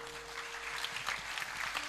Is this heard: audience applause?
yes